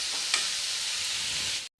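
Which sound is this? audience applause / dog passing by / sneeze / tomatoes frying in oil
tomatoes frying in oil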